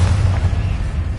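Fiery Confringo blast spell in Hogwarts Legacy, a short, loud low rumbling boom sustained for about a second with no voices.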